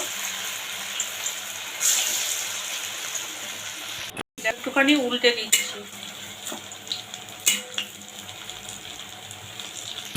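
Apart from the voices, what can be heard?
soy chunk muitha dumplings frying in hot white oil in a wok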